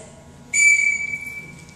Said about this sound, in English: Oh, and it's one whistle blow. It sounds like this.